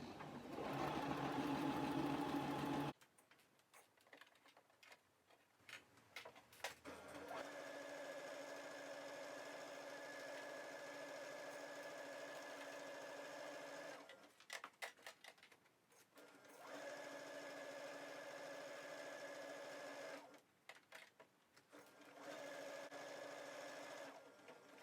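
A sewing machine hems sheer chiffon fabric on an Ogden Cami top, running in steady close whirring stretches broken by short pauses and restarts, with a louder burst of other noise at the very start.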